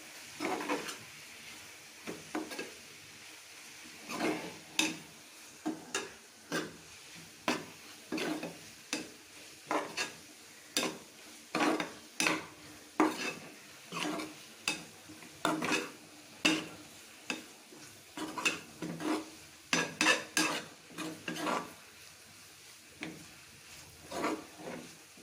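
Spoon scraping and clinking in a pot as onion pickle is mixed with fenugreek and turmeric, a run of sharp irregular strokes close by over a faint sizzle, with no talking.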